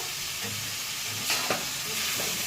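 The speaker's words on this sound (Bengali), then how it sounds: "ভেজে রাখা আলুগুলো দিয়ে দিচ্ছি। আমি মশলার সাথে আলুগুলো কষিয়ে নেব।" Pre-fried potatoes being stirred with spices in a pan for a Marwari-style soybean dish: steady close sizzling with a few scraping stirs of a spoon, no talking.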